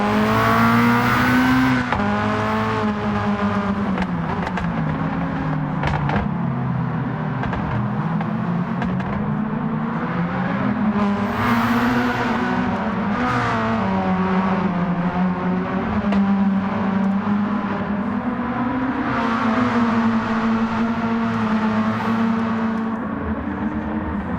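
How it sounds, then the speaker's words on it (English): Old GT1 race car in Gran Turismo 7 daily race, engine droning loud and steady with rising and falling revs through gear changes, tyres working under braking and cornering, continuous with no talk. "it is like driving an old GT1 race car"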